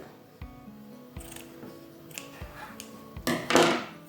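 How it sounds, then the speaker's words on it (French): Scissors cutting black faux leather for a diamond-shaped bag, a string of separate close-up snips and crunches with a louder burst of cutting near the end. "Donc, on va découper ce qui dépasse."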